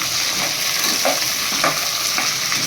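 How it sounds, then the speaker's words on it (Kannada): Double beans and peas frying and being stirred in hot oil for green pulao, a steady close sizzle with a few soft stirring knocks, no voices. "ನಂತರ ಡಬ್ಬಲ್ ಬೀನ್ಸ್ ಹಾಕ್ತೇನೆ ಇದ್ದೀನಿ ಇದು ಬಂದಿದ್ದು ಬಂದುಬಿಟ್ಟು ಎರಡು ಕಾಯಿ ನಂತರ ಬಟಾಣಿ ಸೇರಿಸ್ತಾ ಇದ್ದೀನಿ"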